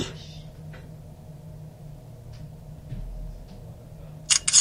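A Neken N6 Pro smartphone camera takes a photo, giving a short double shutter click near the end after a quiet stretch of faint room noise.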